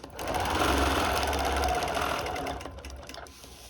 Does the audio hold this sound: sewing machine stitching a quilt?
yes